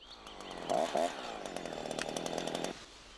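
A Husqvarna chainsaw runs close by with a steady buzzing drone that surges briefly near the start, then holds at an even pitch before cutting off abruptly, leaving quiet.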